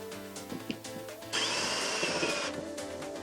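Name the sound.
power drill drilling cabinet drawer for hardware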